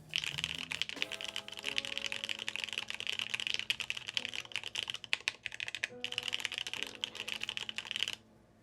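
A stock mechanical keyboard with PBT Cherry-profile keycaps is typed on in fast, continuous bursts of crisp, close-up keystrokes, with a brief pause midway, while a faint tonal hum runs underneath.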